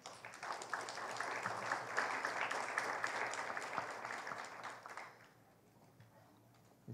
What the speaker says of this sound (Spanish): doctor Boris Mauricio Mendoza, a quien recibimos con fuertes aplausos.